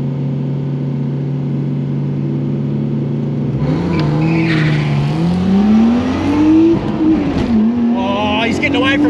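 A car engine drones steadily, then a second loud engine, a drag car, roars in and climbs in pitch as it accelerates past on a drag strip, with some talk mixed in.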